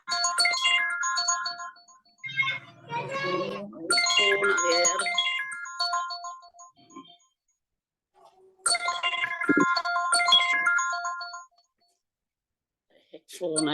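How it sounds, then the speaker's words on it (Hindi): Phone ringtone going off in the middle of a church prayer, a bright melodic tune repeating in several bursts with silent gaps between them, fairly close, while a voice speaks over part of it. "फोन आया बीच में।"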